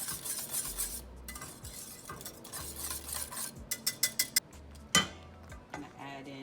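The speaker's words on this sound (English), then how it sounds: "Give that a good stir." Butter being stirred in a pot for Southern-style shrimp and grits, quiet scraping with a run of sharp metallic clinks and taps of a utensil against the pot, close and intermittent.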